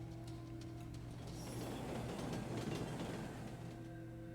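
A train travelling in the game Root Letter, carrying a group on the trip from Matsue Shinjiko Onsen Station, as a steady, faint rumble and rattle with quiet background music and no speech.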